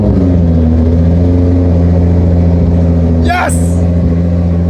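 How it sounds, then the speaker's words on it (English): A widebody Nissan GTR engine holds a loud, steady drone on a dyno, then rises in a quick raspy rev burst that climbs and falls; a voice shouts over it. "Wow, this sounds really raspy. Wow, this car sounds a lot more angrier"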